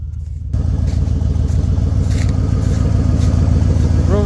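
A Chevy car engine runs close by, a steady low clattering rumble that starts abruptly and holds at a loud, even level while the car drives, with no speech over it.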